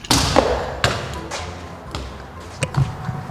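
A football struck hard against the crossbar of a goal gives a sharp thud, followed by a few scattered bounces and knocks, all close and fairly loud with no talking.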